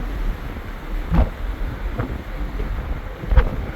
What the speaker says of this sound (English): they're like 30, 35 mile an hour winds right now